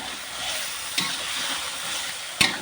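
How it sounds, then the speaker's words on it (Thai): Sliced pork belly stir-frying with Thai curry paste in a pan, a steady close sizzle and hiss throughout with two brief clinks of a utensil against the pan, no talking. "หมูสามชั้นที่เตรียมไว้นะคะล้างหั่นสะอาดแล้วนะคะ ผัดลงไปกับพริกแกง"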